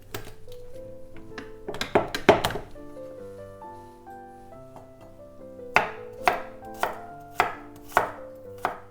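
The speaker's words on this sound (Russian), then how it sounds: "Чеснок также немного измельчаю." Quick knife chops hit a cutting board in bursts as three garlic cloves are minced, then a steady series of evenly spaced chops, close and clear over soft background music.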